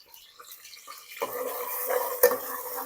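Onion and ginger-garlic paste sizzle in hot oil in a pan, a steady crackling fry that starts soft and swells after the first second, with a brief clatter of a spoon near the end.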